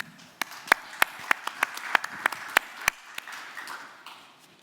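A small audience at a panel discussion on standard setting organizations gives a short burst of scattered applause: about a dozen distinct, sharp claps over three seconds, then fading into quiet room tone.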